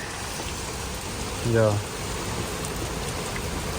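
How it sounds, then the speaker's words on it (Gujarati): Steady rain falls in Canada after several hot days, a constant even hiss throughout, with a brief spoken word from a nearby voice partway through. "મસ્ત મજાનો વરસાદ આપણને બહુ મજા આવે."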